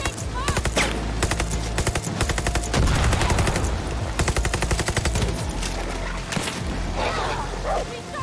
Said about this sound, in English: How many dogs have they got?